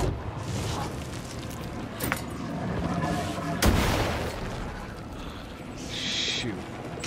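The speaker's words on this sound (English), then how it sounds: "Let's try some flashbangs." Flashbangs go off in the video game Alan Wake 2, two or three sharp bursts standing out against a busy, rumbling game soundscape, followed by a high ringing tone near the end.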